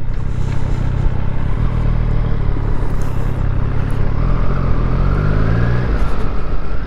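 A car accelerating just ahead on a road, its engine note rising steadily over a constant low rumble of traffic, close and loud, with no talking.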